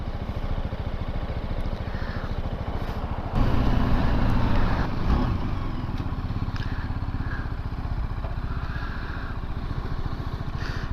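A BMW G310GS Rallye single-cylinder motorcycle engine drones steadily while riding, close and fairly loud, swelling briefly as the throttle opens before settling back to an even cruising hum.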